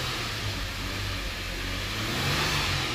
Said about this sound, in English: Let's see how the car revs.